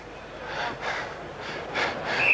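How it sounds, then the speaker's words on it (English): An umpire's heavy breathing close to the microphone during a football match, a series of about five rough, airy breaths in an uneven rhythm, with nothing else behind them. "Umpire's breathing a bit heavy there by the sound of it."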